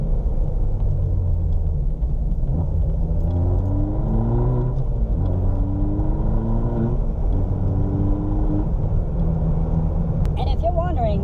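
A 2018 Fiat Abarth engine holds steady in third gear near 4,500 RPM while cornering, a loud continuous drone with rising harmonic sweeps and rumble throughout, heard from inside the cabin.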